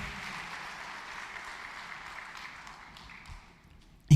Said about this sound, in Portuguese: Eu quero que você dê uma grande salva de palmas ao Senhor